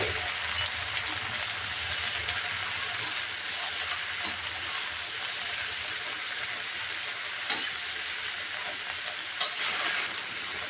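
Sliced okra sizzles steadily in hot oil, a dense, even crackling hiss that holds close and loud throughout with no voices.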